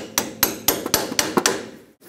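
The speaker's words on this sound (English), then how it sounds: "let's hammer a socket on top of it" Metal hammer strikes ring out sharply as a 19mm socket is hammered onto a nut on a 1996-2002 Toyota 4Runner wheel hub, about seven blows in a steady rhythm, close and loud, each with a brief metallic ring before a final pause.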